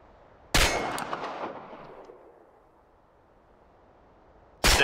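Pistol shots striking metal targets in Chernobylite, a sharp loud crack with a ringing metallic clang decaying over a second or two, then a second shot at the end.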